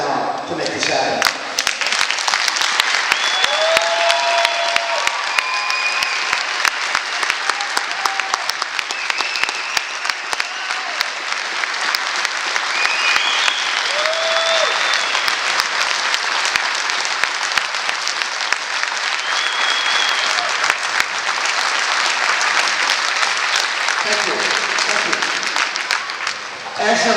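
Crowd at a ribbon-cutting ceremony for an ice arena standing, cheering and applauding, a loud sustained wash of clapping with whoops and shouts running nearly half a minute before tapering at the end.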